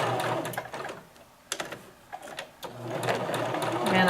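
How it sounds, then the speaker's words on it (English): A sewing machine stitches a lined patch pocket in quick, close bursts of rapid needle rattle, pausing briefly between runs, with a voice speaking softly at times. "So we're sewing 3 sides fully and leaving an opening on the one side on the bottom."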